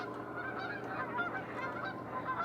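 Geese honk repeatedly at a moderate distance, overlapping calls forming a steady chorus with no other sounds.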